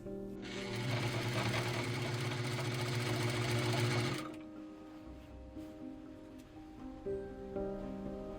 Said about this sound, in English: I like to stitch kind of close to the edge to prevent it from rolling as much as possible.